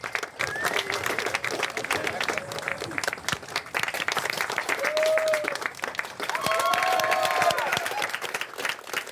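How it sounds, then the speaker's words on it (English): A crowd applauds steadily throughout, with some cheering and voices mixed into the clapping. "Applause."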